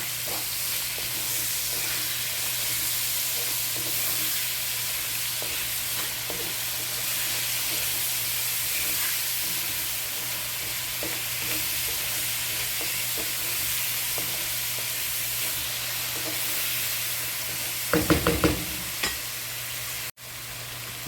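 Ginger and garlic stirred into a pan for yam stew, a steady sizzle with faint hiss and occasional light spoon scrapes, with a brief cluster of knocks near the end.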